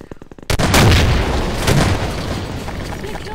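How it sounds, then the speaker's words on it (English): Heavy guns firing in a survival video game, a loud booming blast after a half-second of quiet, rolling into a sustained roar of heavy fire that stays dense and loud throughout, no talk over it. "I'm bringing up the heavy guns."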